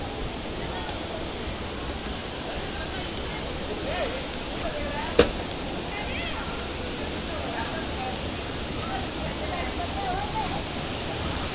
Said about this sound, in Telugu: కనిపిస్తున్న వాటర్ ఫాల్స్